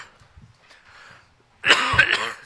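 A single harsh cough bursts out after a near-silent pause, close and fairly loud, with a throaty rasp as it fades.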